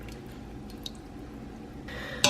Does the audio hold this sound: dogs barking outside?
no